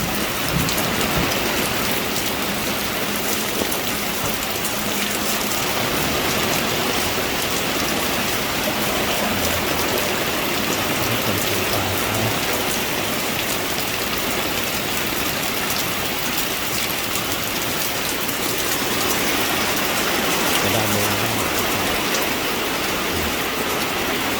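Steady rain falls in a continuous, even hiss over a drought-dry garden of vegetable plants, with soft patter on surfaces and no voices.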